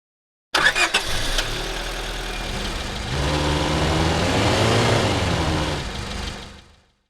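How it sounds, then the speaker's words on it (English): Honda Civic engine start and drive built from a sound-design preset: a short starter crank catches into a steady idle, then the engine pulls away with a rising, louder drive note before fading out at the end. "The engine start sound is being triggered from the one-shot section."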